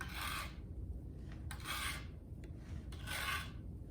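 Wax is scraped by hand during lost wax casting prep, three or four short rasping strokes with quiet pauses between, close and faint.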